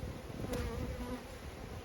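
Honey bees hum at a hive in one steady, close drone with no break, and no one speaks.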